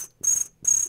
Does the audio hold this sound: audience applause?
no